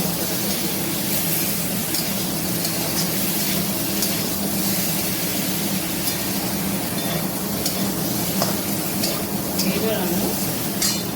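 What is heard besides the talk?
spices being fried and stirred in a pan on low flame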